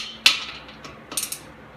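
A wrench ratchets on an exhaust pipe bolt of a 2016 Harley-Davidson Road Glide while a Vance and Hines slip-on is being installed. Several short metallic clicks and turns come close and fairly faint, with pauses between them.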